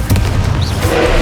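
A loud, heavy boom from the Confringo blasting spell in Hogwarts Legacy on PS5, one short burst with deep rumbling low end and crackling debris.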